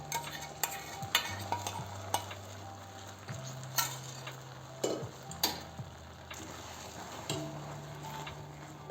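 A spoon stirs milk with dissolved sugar in a pan over a low flame while making rabdi. Close, irregular scraping and clinking strokes run over a faint sizzle, and no one speaks.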